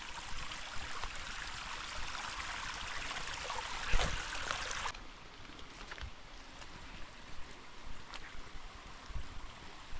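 Steady rushing of flowing stream water, broad and constant, with a brief louder splash partway through before settling to a softer, continuous trickle.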